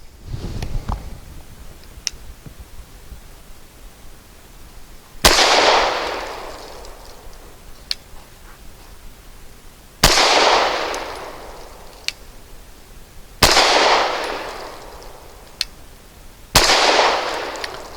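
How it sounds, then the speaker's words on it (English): Walther P99AS pistol firing Nosler 115 grain ammunition at a target 7 yards away: four loud, sharp shots spaced several seconds apart, each with a ringing decay, with faint clicks and background noise between them. "5 shots at 7 yards on that center target."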